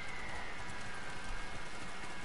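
Steady rain falls in the video game Ghost of Tsushima, a dense, even hiss that holds at the same level through the short stretch with no voices over it.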